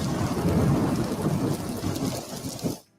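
Heavy rain with rolling thunder, a dense loud rumble and hiss that swells and then cuts off abruptly at the end.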